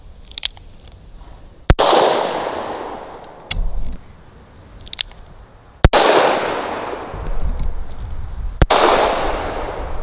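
Shots from a gun loaded with 45 Colt number 9 shotshells: several sharp, loud cracks a few seconds apart, each trailing into a short echoing decay outdoors, with fainter clicks and thumps between them.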